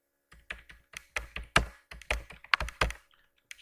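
Typing on a computer keyboard, about a dozen distinct close key taps and thunks in short irregular bursts, with a few louder strokes and brief pauses, alone without talk.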